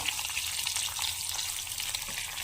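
Garlic, curry leaves and onion fry in oil for pepper rasam, giving a steady, dense sizzle up close that holds evenly throughout with no talking.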